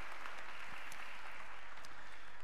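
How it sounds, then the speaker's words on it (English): A church congregation applauds in a steady, dense patter of many hands, moderately loud and continuous throughout. "You deserve another round of applause."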